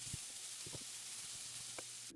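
Grated carrots sizzle in a frying pan with a steady, soft, close hiss and a few faint utensil taps, ending with a brief louder scrape.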